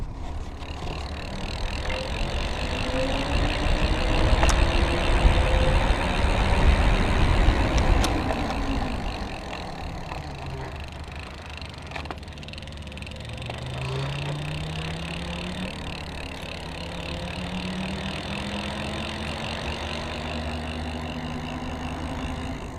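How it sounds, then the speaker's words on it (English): A Polaris motorcycle engine runs at high torque with a steady buzzing drone, its pitch sliding up and down as the revs change. Close and continuous, with no talking. "There is a little bit of a buzz that I've noticed on this and other Polaris bikes"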